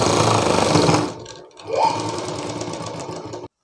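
Sewing machine stitching a blouse piece runs loud and steady, pauses briefly around the middle, then resumes its fast even whir until it stops abruptly.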